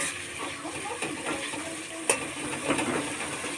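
Chicken kosha being stirred in an uncovered pan, a steady low sizzle under scraping spoon strokes, with one sharper clack of utensil against the pan partway through. No talking.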